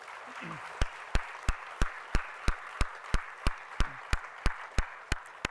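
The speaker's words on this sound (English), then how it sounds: "Can I have one more round of applause?" Steady applause from a crowd at a secondary school graduation, with a series of sharp, evenly spaced loud claps punctuating the background clapping.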